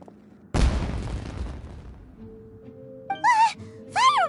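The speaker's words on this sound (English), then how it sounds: "It sounded like fireworks." Fireworks go off in the Genshin Impact video game: a single loud booming burst that crackles and decays over about a second, followed by quieter game tones.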